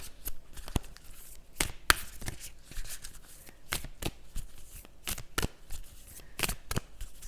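Work Your Light Oracle cards are shuffled by hand, giving a run of sharp, close riffling snaps and soft slides at an irregular, steady pace with no talking.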